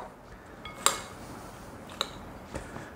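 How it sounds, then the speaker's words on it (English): A spoon mixes chicken salad with red grapes in a bowl, giving three sharp clinks against the dish over a quiet background of soft stirring. "And then I'm going to stir these all up. I'm going to mix it all up."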